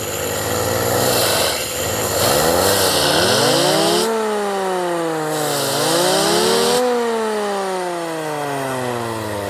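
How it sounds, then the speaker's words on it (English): Rotary engine of a Mazda RX-7 with the air conditioning deleted, revving up slowly in waves, pitch sweeping up and settling back several times, loud and close with a constant buzzing drone and no talk. "it kind of climbs the RPM very slowly"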